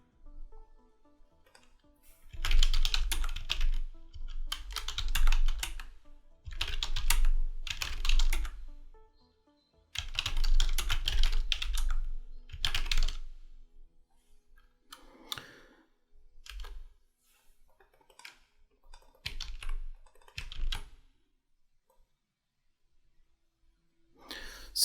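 Fingers type on a computer keyboard while setting up ads, with bursts of rapid clacking keystrokes separated by short pauses, then sparser, lighter taps toward the end. The sound is close and clear, and no voice is heard.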